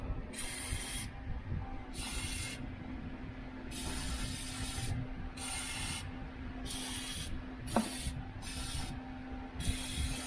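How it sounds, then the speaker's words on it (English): Cleaner is sprayed onto a Sea-Doo RXP-X 300 jet ski part crusted with salt residue. About eight sharp, hissing bursts of varying length come close to the nozzle, with quiet handling sounds in between. "spray a little of that on there."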